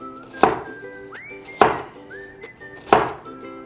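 Knife chops through a red onion in three sharp, separate board thuds about a second apart, close and clear, with a faint whistled tune drifting between strikes.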